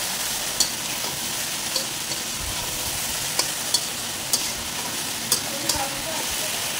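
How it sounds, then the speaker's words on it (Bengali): Taro stolons frying in a pan for a Bengali dish with dried shrimp, stirred now and then: a constant dense hiss of oil with scattered light clicks of a spatula against the pan, close and steady, with no talking. "নেড়ে চেড়ে নিচ্ছি।"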